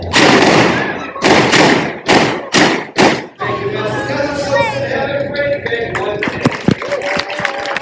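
A sharp series of loud gunshots at a Wild West reenactment at the Broken Boot Gold Mine, five booming blasts in steady rhythm followed by crowd chatter, clattering and scattered thuds as voices talk.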